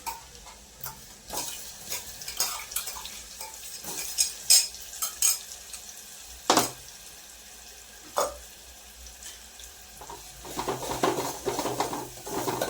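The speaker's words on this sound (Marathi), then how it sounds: "आता हे वाटण टाकते मी।" Spice paste going into a pan with cumin, salt, turmeric and green cardamom for Khandeshi patode, stirred and frying with scattered clinks and scrapes of a spoon and a soft background sizzle, louder stirring toward the end.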